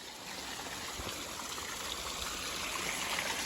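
Water filtered through stone trickles and splashes down rocks on Girnar mountain, a steady close stream with no voices.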